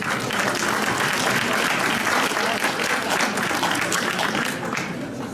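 A ceremony audience applauds during the Ecumenical Jury Prize presentation at the 2018 Cannes Film Festival, with dense sustained clapping from a large crowd that fades slightly at the end.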